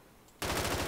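Silenced MP5 gunfire in a Hitman-style game set in GTA, breaking out suddenly after a quiet moment as a loud, sustained automatic burst that fills the rest of the second.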